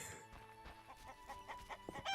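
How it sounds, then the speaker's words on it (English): Chickens cluck in short, irregular bursts in The Witcher game, a small flock pecking around village houses, with soft layered game ambience and faint musical tones underneath. "Oh, look at all the chickens."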